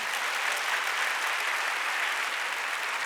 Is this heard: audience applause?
yes